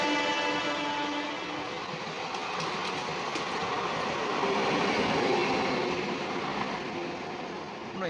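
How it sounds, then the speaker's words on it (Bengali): An inspection train rolls through Warangal station at night, a loud steady rumble of wheels and cars passing close by with faint rail squeal, no talk. "কোনো ইন্সপেকশন ট্রেন গেল এটা।"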